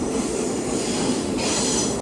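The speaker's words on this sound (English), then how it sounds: "This train is so loud." A train rolls through a busy railway tunnel with a loud, continuous roar and squealing wheels, sustained and close throughout with no talk.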